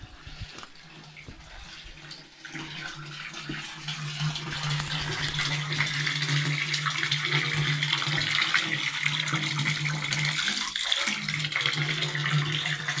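Spring water pours steadily from a mountain fountain near Oropa, a continuous splashing rush that grows louder partway through and runs without a break, close by.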